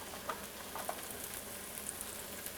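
Bread brushed with clarified butter sizzles steadily on a hot grill, a soft continuous crackle with light ticks and pops, close and fairly quiet, with no voices.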